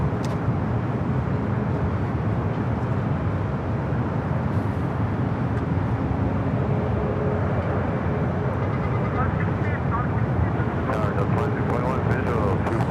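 WestJet Boeing 737 MAX 8 jet bound for Calgary taking off from runway 24 left at LAX, a steady, loud broadband engine roar running throughout with no break, with radio talk heard over it.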